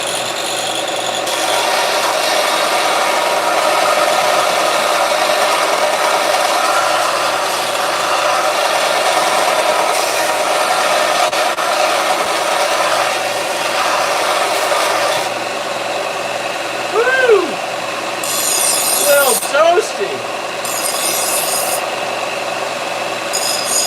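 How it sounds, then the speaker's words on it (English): A piece of armour gets sanded with a power tool, producing a continuous harsh abrasive whir with steady rubbing grit, interrupted near the end by a few short brighter squeaks and scrapes. "I'm gonna sand this one down now too"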